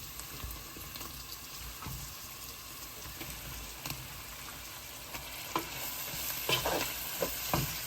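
Marinated beef sizzles in a hot frying pan while being stirred, with a steady sizzle under scraping and clinking of the utensil against the pan, getting busier toward the end.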